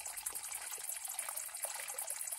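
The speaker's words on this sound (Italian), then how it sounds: "Sono tipo 40 gradi di acqua caldissima, puzzosa di uovo." Hot sulphurous spring water at about 40 degrees flows steadily near Bosa, Sardinia, a continuous quiet hissing trickle with no voices over it.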